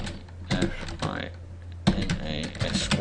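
Quick bursts of clicking keystrokes on a computer keyboard, close and fairly quiet, broken by short pauses and mixed with someone talking.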